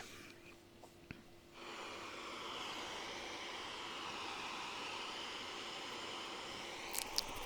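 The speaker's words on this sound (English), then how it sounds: "This is the ocean." A looped recording of ocean surf: a steady, broad wash rises after a quiet start and rolls on continuously as a smooth, even roar.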